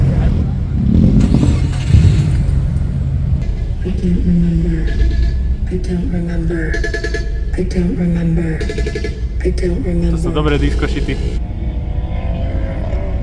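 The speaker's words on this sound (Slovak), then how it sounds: "Kokos, jak nariekajú tie auta po celom kruhu" Cars at a car meet on the Slovakia Ring circuit roar and rev loudly, engine notes rising and falling as they pass, with a voice speaking over the noise.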